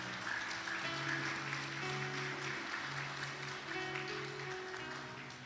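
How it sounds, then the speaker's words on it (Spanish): Congregation applauding during a Spanish-language church service, a steady dense wash of clapping that holds for several seconds without pause, with no talk over it. "Aplauda a Cristo"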